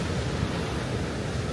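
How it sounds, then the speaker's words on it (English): Rough sea on the North Devon coast, a steady, loud wash of surf with wind buffeting the microphone, continuous and without distinct breaks, and no voices. "Just look how crazy the sea is today"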